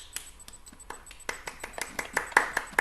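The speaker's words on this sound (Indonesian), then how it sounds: "Oke, kita beri tepuk tangan." Scattered hand claps from a small group after a classroom presentation, sparse at first and then growing denser and louder toward the end.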